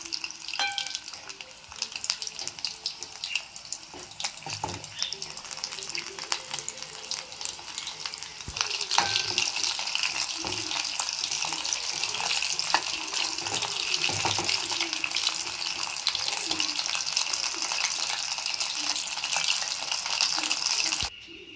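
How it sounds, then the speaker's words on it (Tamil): KFC-style homemade chicken pieces deep frying in hot oil over a low flame, giving a steady, dense sizzle and bubbling that runs close and continuous throughout, growing slightly brighter partway through before cutting off abruptly. "ரெடியாகிட்டு இருக்க எண்ணெயில் போட்டிருக்கோம்"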